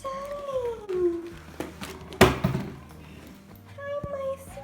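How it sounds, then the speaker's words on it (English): A pet cat meows repeatedly behind a front door as it is opened, with rising and falling cries spread across a few seconds, a sharp thump midway, and some background noise. "I can hear him meowing, meowing, meowing behind the door"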